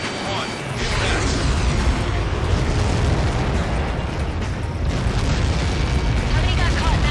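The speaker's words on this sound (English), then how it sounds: "How many got caught in that explosion?" A huge explosion in the combat flight game Ace Combat 7 rolls out as a loud, sustained roaring rumble that fills the whole clip.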